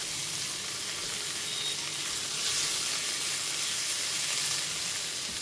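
Potatoes and cauliflower sautéing in a pan, a steady loud sizzle and crackle of frying that runs continuously without pause, no voices over it.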